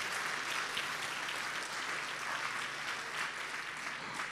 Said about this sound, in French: J'attendais plus d'applaudissements, s'il vous plaît